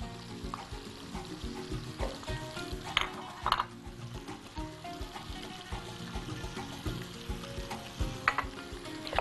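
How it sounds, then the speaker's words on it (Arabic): An electric mixer beats butter with powdered sugar in a bowl, giving a steady whirring hum with irregular scraping knocks and clatters of the beaters against the bowl, close and moderately loud with no talking. "نضرب الزبدة والسكر الباودر"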